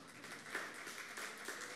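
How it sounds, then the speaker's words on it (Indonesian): A church congregation claps during a family-themed sermon, soft and fairly distant, a brief patter of scattered hands lasting under two seconds. "Kok ada yang tepuk tangan orang tua?"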